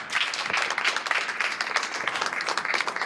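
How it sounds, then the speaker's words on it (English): A round of applause at a township board of education meeting, steady continuous clapping from a room of attendees, even in level and fairly close, with no talking over it. "Another round of applause."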